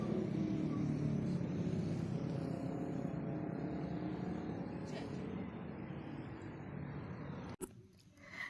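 Busy road traffic at a large signal in Malaysia, a dense steady roar of car and bus engines with passing rumbles, close and continuous, ending in a sharp knock near the end.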